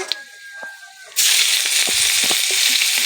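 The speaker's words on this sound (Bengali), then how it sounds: "পেঁয়াজগুলো একটু নেড়ে চেড়ে ভালো করে ভেজে নেব" Ground onion paste dropped into hot oil in a wok: after a quiet start with a few clinks, a sudden loud, steady sizzle bursts up and continues, close and alone.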